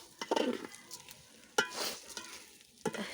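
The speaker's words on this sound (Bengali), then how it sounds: "আমি এখন এই যে চালটা দিয়ে দিলাম, একটু নাড়াচাড়া দেবো" Rice stirred in a sizzling pan, with a few distinct scraping strokes over a soft background fry, close and clear.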